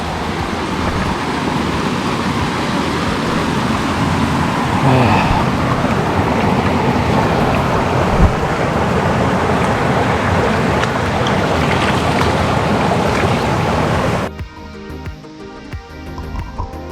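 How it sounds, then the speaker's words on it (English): Rain in the woods on the Old Rag Mountain hiking trail, a steady broadband rushing hiss of falling drops and wind that stays loud for about fourteen seconds before cutting off abruptly. "I think I'm hearing the sound of rain"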